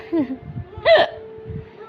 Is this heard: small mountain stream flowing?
no